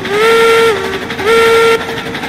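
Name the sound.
steam locomotive train whistle in video game Railroads Online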